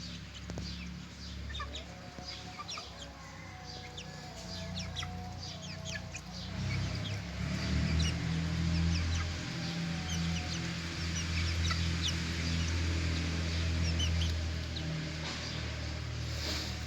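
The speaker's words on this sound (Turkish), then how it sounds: "Biri gıdaklıyor, üçü cikliyor." Hens cluck repeatedly while broiler chicks (Ross 308) cheep in short high bursts, with a rooster among them, over a steady low rumble of outdoor background noise.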